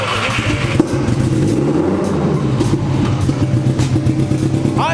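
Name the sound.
MK4 Jetta engine running and revving after start-up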